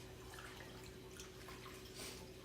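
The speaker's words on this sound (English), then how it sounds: "So we're going to start adding the warm water." Warm water pouring into corn masa for handmade tortillas, a soft steady trickle and faint drips over a low background hum, quiet and close.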